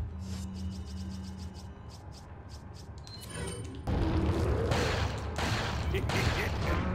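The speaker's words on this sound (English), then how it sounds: "Now I'm gonna throw the grenade" A grenade goes off in Resident Evil 4: after a stretch of quieter game noise and clicks, a loud, sustained burst of blast and rumble hits around four seconds in and lingers to the end.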